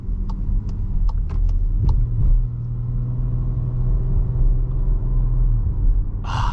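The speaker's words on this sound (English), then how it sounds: "The engine note on this vehicle just kind of drives you to push the throttle harder." Steady low engine rumble from a 2022 VW Atlas Cross Sport SEL Premium R-Line under way on the road, a continuous drone with faint ticking near the start and a brief brighter burst at the end.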